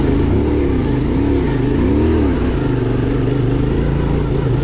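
CFMOTO Ibex 450 motorcycle held in first gear on an enduro track, its loud, close engine droning steadily with wavering pitch as revs rise and dip.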